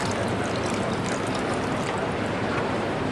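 Residual coolant drains from a 1998 Kawasaki ZX9 motorcycle during a teardown, a continuous close splashing pour of liquid that holds steady throughout.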